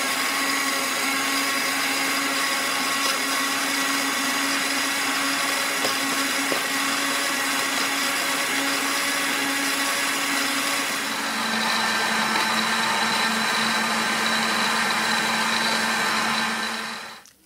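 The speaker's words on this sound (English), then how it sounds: "now we are putting it in the blender so that we blend it" An electric blender runs steadily at full power blending watermelon and white ginger, a loud continuous whir that shifts pitch partway through as the contents break down, then cuts off at the end.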